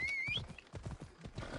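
Horse hooves clip-clopping at a gallop in the video game Assassin's Creed Odyssey, faint and quick, with a brief whinny-like tone at the start.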